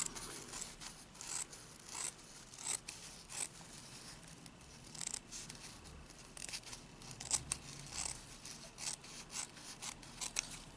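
Scissors snip and rub through excess fabric turned over an egg during egg art lining, giving repeated quiet cuts and scraping rustles at close range with no talking.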